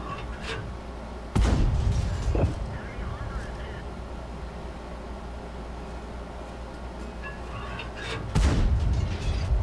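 Tank cannon fire in World of Tanks from a T-54 Mod 1, with two loud booming shots, one early and one near the end, plus a softer report between, over a steady engine rumble.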